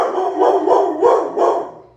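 Deep, heavy barks from a big dog, four in a steady rhythm, loud and close.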